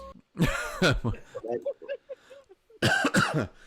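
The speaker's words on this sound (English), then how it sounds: "I know I just coughed." A cough from a man on a live-streamed Monopoly game, a short burst that stands out from the nearby talk, with speech on both sides of it.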